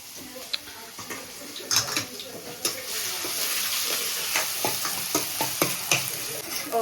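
Dried-out curry leaves drop into a frying pan of hot oil, setting off a close, busy sizzle with irregular crackling spits and pops that build and keep going.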